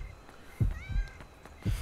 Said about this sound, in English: It was a fucking cat.